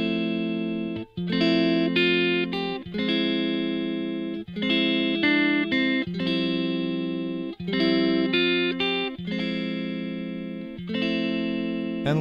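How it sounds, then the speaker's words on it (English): Distorted electric guitar plays the repeating riff from Vince Staples, 6LACK and Mereba's "Yo Love" in several even phrases with brief gaps between them, loud and close with no voice. "there we have the whole riff, and it sounds like this"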